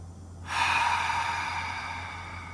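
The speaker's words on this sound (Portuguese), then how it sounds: "Mais uma vez, respirando pelo nariz e soltando pela boca." A person breathes in through the nose and out through the mouth during a guided relaxation exercise, heard as one close, steady breath that swells abruptly and fades slowly.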